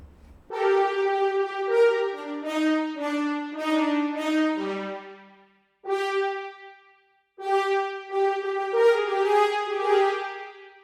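Layered staccato and marcato horns from Iconica Sketch in Cubase play a bright, brassy melodic phrase of short, punchy notes, alone and fairly loud, with a brief pause midway.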